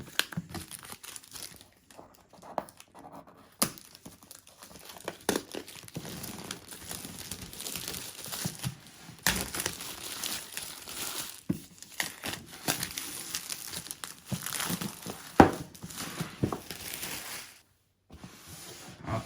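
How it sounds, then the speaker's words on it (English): Cardboard box packaging for an Arlo Ultra 4K wire-free security camera being cut and torn open, with intermittent crinkling, scraping and tearing rustles up close, quiet pauses between bursts, and no speech. "So let's go ahead and open this up. All right, so let's go ahead and cut this up."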